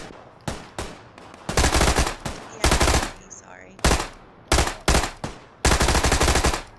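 Repeated bursts of automatic and single-shot gunfire from the battle royale video game PUBG, a QBU marksman rifle among the weapons, loud and close in clustered volleys with short gaps, while players talk briefly in between.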